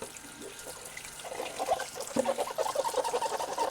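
Water runs and splashes from a tap as a dish is rinsed, a steady gushing stream growing louder with soft clinks underneath.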